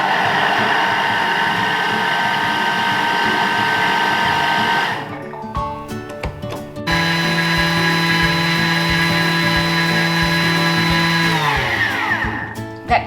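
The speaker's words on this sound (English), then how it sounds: "We are going to mill this at speed 10" A kitchen machine mills oats and orange rind at top speed 10, a loud continuous high-pitched motor whir that drops briefly around the middle, then resumes with a lower steady hum before winding down near the end.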